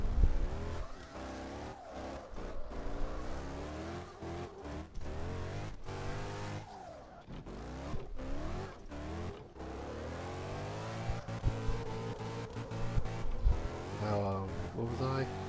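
A racing car engine revs and whines through rising and falling pitch sweeps as the car spins out in a video game, with someone talking over the engine throughout.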